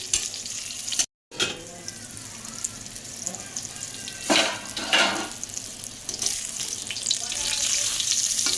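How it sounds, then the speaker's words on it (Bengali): Pointed gourd pieces sizzle in hot oil as they are turned with a spatula, a continuous close hiss with louder bursts as the pieces flip, broken once by a short silent gap. "পটলগুলো এবার আমি উল্টে উল্টে দিচ্ছি। এক পিঠ হয়ে গেছে, আর এক পিঠ করে ভালোভাবে ভেজে নেব।"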